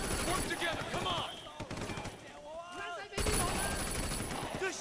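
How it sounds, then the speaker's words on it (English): Rapid gunfire in the open-world action game Sleeping Dogs, bursts of shots loud and close, mixed with in-game shouting and chatter, with a brief quieter lull midway before the firing resumes. "Two shots!"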